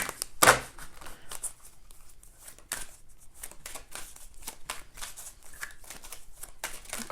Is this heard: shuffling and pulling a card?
yes